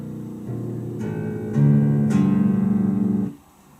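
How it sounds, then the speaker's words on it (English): A handmade five-string electric bass on its neck pickup plays a few deep, round notes in slow succession, each new pluck ringing over the last before the sound cuts off near the end. "This is the sound of the neck pickup."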